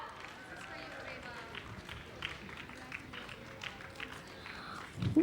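Children clapping together at a kids' church convention: a brief, soft burst of applause under a noisy hall, fairly distant and mixed with crowd murmur.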